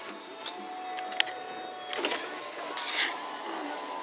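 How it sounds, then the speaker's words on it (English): The heated power tow mirror on a 2011 Ford F350 Lariat adjusts, its small motor making a faint whirring hum broken by soft clicks and brief bursts, close by and fairly quiet. "show you the passenger mirror, which is a fully heated power tow mirror"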